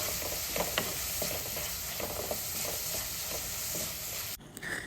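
Onions and shallots sautéing in oil for a yam stem curry, with a steady broadband sizzle and scattered soft stirring clicks, ending with a brief louder scrape near the end; no voices.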